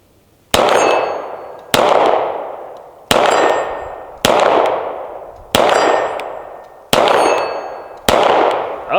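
A CZ P-07 pistol fired outdoors in seven loud, sharp shots spaced about a second apart, each with a ringing decay, no talking.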